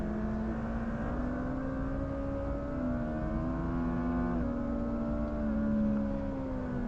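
A Suzuki Hayabusa motorcycle accelerates hard on a racetrack, its engine whine climbing steadily and close, with a brief dip near the middle as it shifts gear before pulling on.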